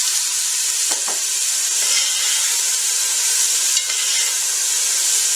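Garlic and potatoes sautéing in a pot for pumpkin soup, a loud continuous hiss of frying with a couple of faint stirring knocks, close up and without voices.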